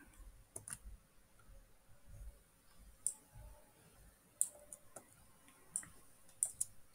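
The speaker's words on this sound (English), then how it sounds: "now I'm just clicking on import" Computer mouse clicks, a few sharp isolated ticks spaced a second or so apart, faint and close over a quiet room hum with no talking.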